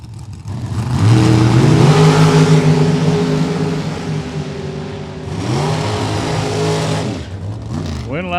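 Drag race cars staging and launching at a Super Pro bracket event: loud, rising engine roar builds from near idle into sustained revving, dips, then surges again, with a track announcer talking over it.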